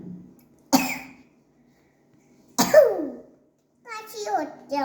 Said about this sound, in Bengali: কাশি হচ্ছে আমার।